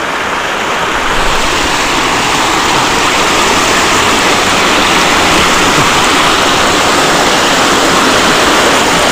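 River water rushes steadily and loudly, a close, dense broadband flow that stays constant throughout with no voices.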